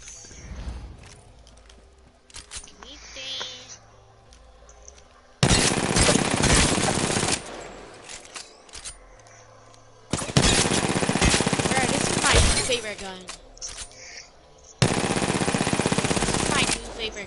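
Bursts of rapid automatic gunfire in a shooter video game: three loud sustained volleys of a second or two each, separated by quieter stretches with scattered background game sounds.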